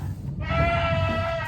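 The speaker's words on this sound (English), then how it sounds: "that's a goat in heat" A goat in heat gives one loud, close, drawn-out bleat with a wavering, nasal tone that holds steady to the end.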